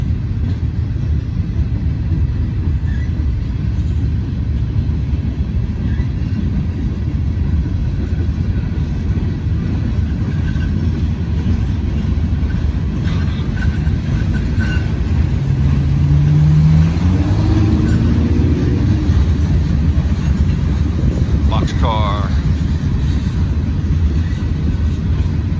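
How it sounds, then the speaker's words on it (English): Freight train locomotives hauling a heavy load of steel coils rumble loudly and steadily throughout, a continuous low engine drone with brief squeals partway through. "I can still hear his locomotives pulling."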